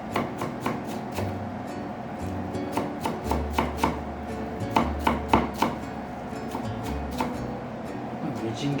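Onion, thinly sliced then turned sideways, is chopped finer than a mince with a knife on a cutting board: quick, crisp, close taps in uneven bursts over soft background tones.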